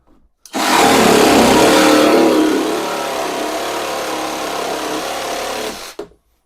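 A Grosser GJS 130 cordless battery jigsaw cuts through wood, its loud, steady buzzing rasp starting abruptly, running hard for about five seconds with a slight drop in pitch partway through, then stopping.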